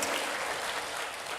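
Dense, steady applause from a church congregation fills the short span, a thick wash of many hands clapping at once with no break or fade.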